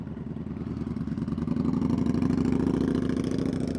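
A triple-cylinder motorcycle with no exhaust baffle idles nearby, its low, pulsing engine note throbbing steadily and rising slightly in the middle, loud and unmuffled with no voices.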